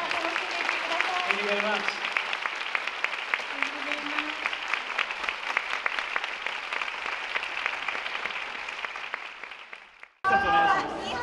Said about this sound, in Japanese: どうぞ拍手でお送りください。